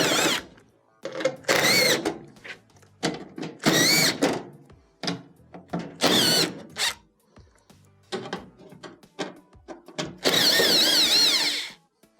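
A power drill backs out 1/4 inch screws from the rear plate of a GE dryer, in several short close whirring bursts separated by pauses, with a longer final run.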